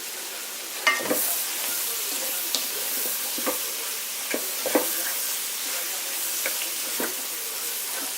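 Brussels sprouts, bacon and garlic fry in a pan with a steady sizzle, while a spoon stirs them in occasional scraping strokes, close up.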